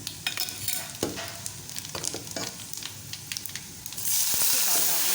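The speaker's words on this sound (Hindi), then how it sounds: "प्याज ब्राउन हो रही है। हम इसमें डाल दें 1 चम्मच ज़ीरा।" Onions browning in a pan with cumin seeds added, a steady close sizzle with scraping stir strokes that swells into a louder, hissing fry near the end.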